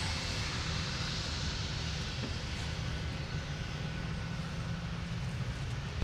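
An Airbus A330-900 jet taking off from Minneapolis–St. Paul airport, a steady broadband engine roar heard from a distance, even in loudness throughout with no talk.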